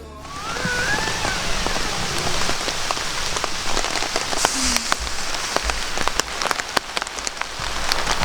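Steady rain falling on a surface outdoors at a campsite, a continuous hiss with scattered individual drops tapping close by, no voices.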